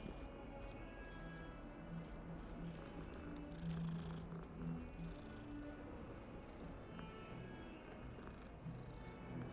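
Cats purring in the video game Hogwarts Legacy, a steady continuous low purr running through the whole stretch at close range, with a busy game ambience beneath it and no talk.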